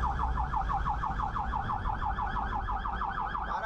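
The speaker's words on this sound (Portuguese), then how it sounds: "O barulho da sirene indica a emergência" An ambulance siren wails in rapid, regular oscillations, steady and somewhat distant over low traffic rumble with buses.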